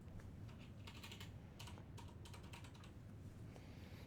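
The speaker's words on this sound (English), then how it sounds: "click the search bar again and type nitron" Fast, close keystrokes clatter on a computer keyboard in short bursts as a word is typed into a search bar, quietly and without talk.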